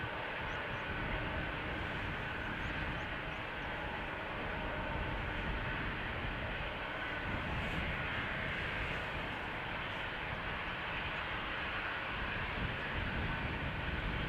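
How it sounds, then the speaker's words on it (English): A KLM Embraer 190 jet at the runway threshold at Amsterdam Schiphol spools up for departure, a continuous distant engine roar and rumble that holds steady throughout. "At the threshold, KLM flight 1317, Embraer 190, outbound Bordeaux, France"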